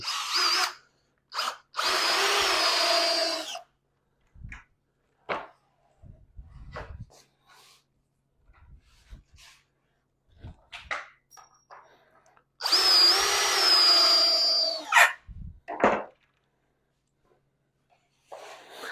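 Power drill driving screws into wood for O gauge model railway layout bench work, heard in two loud bursts of whirring drilling near the start and again later, with quiet handling noises and a dog whimpering in between.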